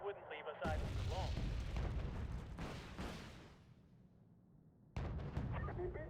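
Artillery fire in Wargame: Red Dragon, a heavy boom with rumbling decay that fades over a few seconds, followed by a second blast near the end, with someone talking at the start and end.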